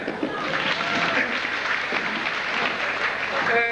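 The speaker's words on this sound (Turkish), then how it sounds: "Alkışlayın" Audience applause at a 1998 graduation gathering, a dense steady wash of clapping lasting throughout with voices and faint tonal sounds mixed in beneath.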